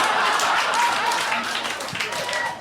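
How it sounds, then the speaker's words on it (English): Live audience clapping at a SXSW 2018 podcast taping, a dense wash of hands applauding steadily for a couple of seconds with voices mixed in. "I don't know whether they're applauding that it's out"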